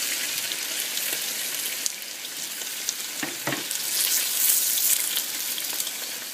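Pre-cooked tortillas warm in a pan for chicken tacos, giving a steady soft sizzle and hiss throughout with a few light scrapes and taps, no talking.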